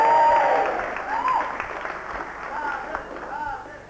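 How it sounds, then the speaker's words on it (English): A small audience gives a short round of applause for Darren, a boxer, the clapping loud at first and then thinning out, with voices talking over it. "Give him a clap."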